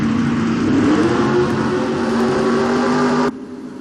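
Race cars accelerate in a NASCAR video game race at Charlotte, a loud steady engine drone with rising tonal whine lasting about three seconds before cutting off abruptly, leaving a quieter hum.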